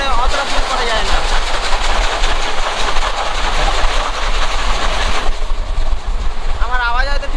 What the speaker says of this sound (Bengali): বিরাট স্পিডে টানছে ট্রেন।